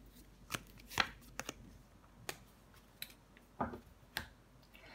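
Tarot cards handled and laid down on a table during a card reading, heard as soft, scattered taps and light slaps spread over a few seconds, quiet and close, with no talking.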